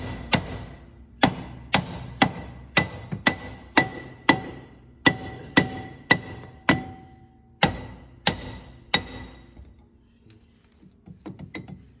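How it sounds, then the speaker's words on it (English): A hammer strikes a Ford Focus brake drum again and again, loud sharp metallic knocks in a steady rhythm of about a dozen blows, then a few lighter taps as it comes loose. "I'm going to use a hammer."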